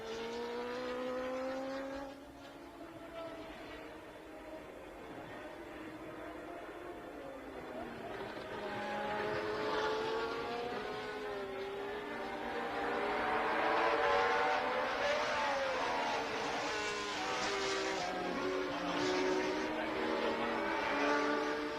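Formula 1 race cars at the Swedish Grand Prix at Anderstorp, engines howling and shifting pitch as they pass, building louder toward the middle and staying strong, with commentary voices faintly mixed in.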